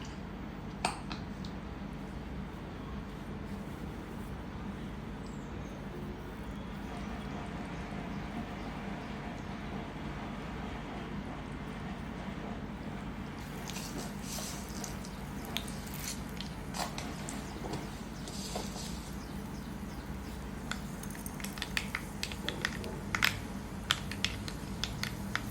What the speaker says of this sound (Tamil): கடுகு நல்லா பொரிஞ்சிருச்சு.